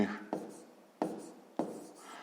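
Pen writing on paper while working a fifth-grade math exercise: three short scratchy strokes, each starting with a sharp tap and trailing off, close and fairly quiet, with no voices.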